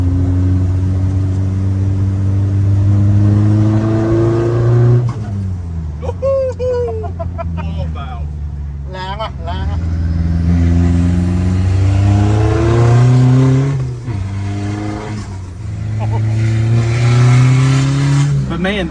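A truck with an Isuzu 4JJ turbo diesel engine revs and pulls hard up toward its low redline, a loud, steady rising drone that drops at each shift, with someone talking over it from inside the cab.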